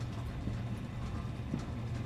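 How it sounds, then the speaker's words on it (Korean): Approaching footsteps in the horror video game Dread Neighbor, a steady low rhythmic thudding of paced steps over a constant dull background rumble, moderately loud and without speech. "발소리 들리는데?"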